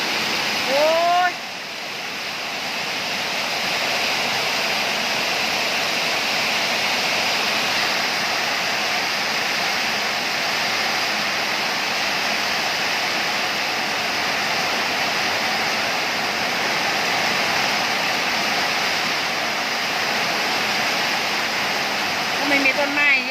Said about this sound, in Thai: น้ำไหลดูตรงไหนบ้าง